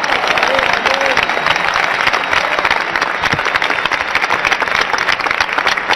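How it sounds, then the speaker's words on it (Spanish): Loud, continuous applause from a large crowd at a Christian crusade in Colombia, a thick roar of clapping hands close by with scattered cheers and voices mixed in. "Vamos a darles un aplauso a todos ellos,"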